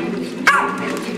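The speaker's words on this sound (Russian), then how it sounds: "А это сама Рыжуля, самая большая собачка" A small dog gives one sharp, close bark amid a steady indoor hum, with faint whimpering and yips around it.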